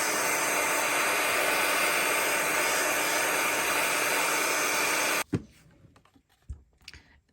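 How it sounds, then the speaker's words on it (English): A heat gun for card embossing runs as a loud, steady broadband roar for about five seconds, then cuts off abruptly, leaving a few faint clicks and handling knocks close by. "get my heat gun here, and I like to run it"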